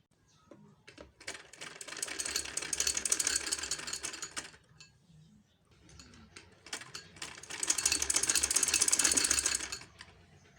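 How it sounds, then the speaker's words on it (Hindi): A sewing machine stitches a kurti along a marked line in two fast, rattling runs of rapid needle strokes, separated by a short pause, close and moderately loud. "अब हम बिल्कुल इस मार्क लाइन के साथ साथ एक एक पैर की सिलाई लगा देंगे।"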